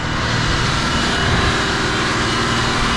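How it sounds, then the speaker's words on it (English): A police helicopter flying right overhead in a city street, its loud, steady rotor and engine roar filling the whole stretch, mixed with broadband noise from riding. "If you guys see that helicopter, it's right above us."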